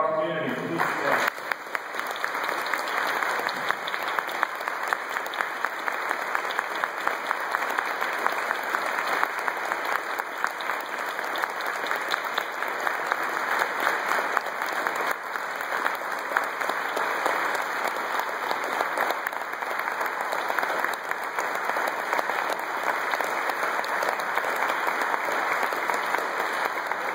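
A church congregation applauds the elders at a 50th anniversary jubilee liturgy, with sustained, even clapping from a large indoor crowd that continues steadily for the whole stretch.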